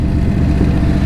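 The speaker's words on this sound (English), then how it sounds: "This thing sounds, it's just got that deeper roar to it. Sounds good on a twin cam." A Harley-Davidson Road King with a Twin Cam engine and a Vance & Hines header idles close by with a deep, loud, steady low rumble.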